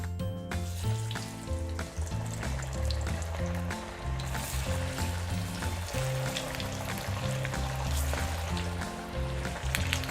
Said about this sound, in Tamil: எண்ணெய் நல்லா சூடாயிடுச்சு. இப்போ நம்ம வடை போட்டு எடுக்கலாம்.